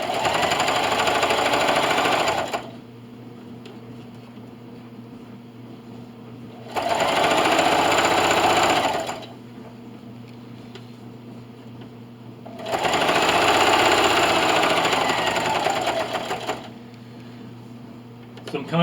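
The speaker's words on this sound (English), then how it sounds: "And just keep sewing." A sewing machine stitches a quilt in three loud bursts of fast, even whirring, separated by quiet pauses where a person speaks.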